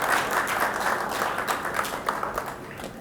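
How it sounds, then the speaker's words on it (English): A crowd claps through a big round of applause at the Jio True 5G launch event, dense and steady for the whole stretch with no talk over it. "Come, Gaurav, big round of applause"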